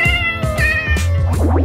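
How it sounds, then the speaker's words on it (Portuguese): A cat meows several times in quick succession, close and loud, the calls drawn out and whiny. "E o som dos gatos"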